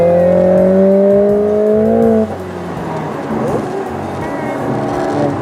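A Mercedes-AMG A45 S 4MATIC+ roars loudly as it accelerates: a strong, rising engine tone for about two seconds, then a drop to a rougher, lower rumble with road noise.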